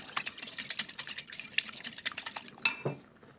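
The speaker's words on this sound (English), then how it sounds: "Give that a bit of a whisk." A whisk clicks rapidly against a bowl as vanilla is beaten into a rice pudding mixture: quick, busy metallic taps close by that end with a final clatter.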